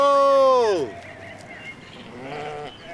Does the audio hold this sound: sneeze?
no